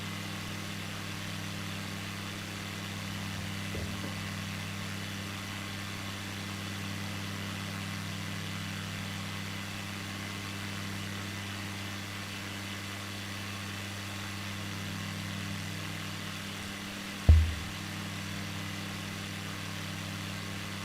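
Steady low drone of a small adventure airplane's engine cruising at about 75 knots in Microsoft Flight Simulator 2020, continuous and even, with one brief thump near the end.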